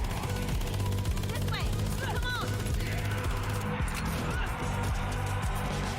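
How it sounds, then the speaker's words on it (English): Rapid machine gun bursts in a video game trailer, loud and continuous alongside other gunfire, explosive crashes and booming effects, with a voice speaking over the din. "Did use a flamethrower and a machine gun."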